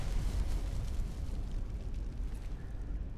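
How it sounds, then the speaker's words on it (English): A defeated enemy blowing apart in heavily modded Skyrim: a dense, rumbling low-end explosion that rolls on loudly for a few seconds and fades only slightly, with no voices over it. "and then he exploded"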